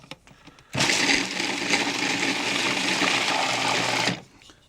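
Food processor pulsing compound butter ingredients in one continuous loud whirring burst of about three and a half seconds, starting and stopping abruptly.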